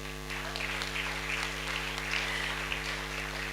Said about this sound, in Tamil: அவங்களுக்கு ஒரு பெரிய கைத்தட்டு.